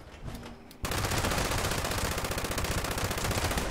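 An explosive light machine gun in the video game Fallout 76 opens up after a short quiet moment and then fires a loud, continuous rapid burst of evenly spaced shots that runs to the end.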